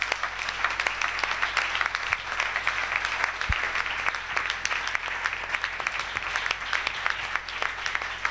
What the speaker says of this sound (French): Acclamons très fort le Seigneur Jésus-Christ.